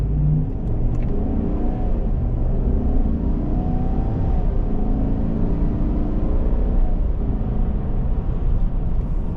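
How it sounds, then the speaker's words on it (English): A 2023 Chevrolet Silverado RST 4x4 pickup with a V8 accelerating, a loud steady engine rumble and rising drone heard from inside the cab, with no talking. "Now let's hear this V8 take off."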